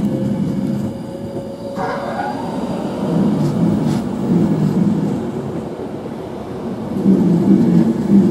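A Virgin Trains Class 390 Pendolino electric train departs London Euston, its steady low rumble and rolling wheel noise filling the station without letup, swelling slightly toward the end as the train pulls away.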